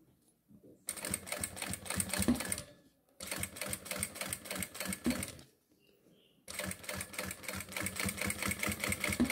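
Sewing machine stitching synthetic leather for a women's wallet, running in three fast rattling bursts separated by short pauses, close and clear.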